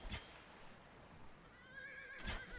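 Horse archer unit in Age of Empires II letting out two sharp whinnies, one at the start and one near the end, with quiet game ambience between.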